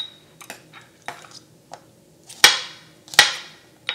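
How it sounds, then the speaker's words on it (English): Knife chopping large garlic cloves into smaller bits on a board while making Goan recheado masala, heard as a few sharp, close knocks, the two loudest near the end, with quiet gaps between. "I always like to chop them up into smaller bits before adding them in."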